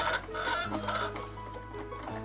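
Several egg-laying hens in a netted pen cluck and murmur close by in a steady, busy chatter, with faint background noise and no voices.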